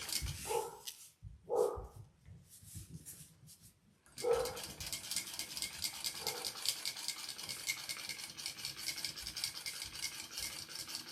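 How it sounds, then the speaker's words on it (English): A dog barks a few times in short bursts near a sewing setup, then a steady broadband background noise takes over for the rest of the clip. "Sorry for the barking dog."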